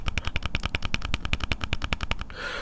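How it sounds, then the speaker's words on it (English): Beats Studio Buds+ charging case lid wiggled on its magnet close to the microphone, giving a fast run of sharp plastic clicks and rattles that stops after about two seconds, with no talking. "you do notice it when you open it and you just give it a little wiggle"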